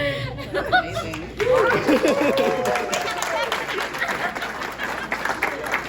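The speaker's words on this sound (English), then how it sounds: "Another round of applause for Gavin." A crowd at a language learning session breaks into applause mixed with chatter and some laughter. Voices talk over the steady clapping throughout.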